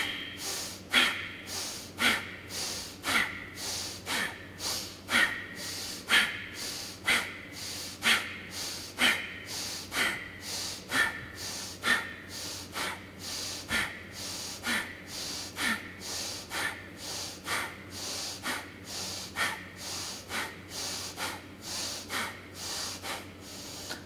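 Deep rhythmic yoga breathing during a power yoga session, with steady, close, audible inhales and exhales repeating at an even pace of about one breath per second, heard alone without talk.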